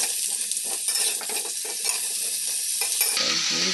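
Mango pieces sizzle and crackle steadily in hot mustard oil with panch phoron and chili tempering, a loud, continuous frying hiss with a brief shift in tone near the end.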